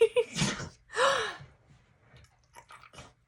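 A single sharp sneeze bursts out, preceded by a quick intake of breath, followed by quiet breathing and faint shuffling.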